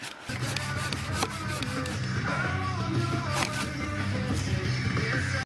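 A handsaw works through wood outdoors at a trail-building site, producing a steady rasping, rubbing noise that keeps going for several seconds at close range.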